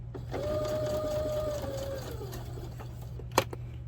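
A sewing machine with a zipper foot stitches a zipper onto a pouch in a quiet room, running steadily for about two seconds and then stopping, followed by a single sharp click.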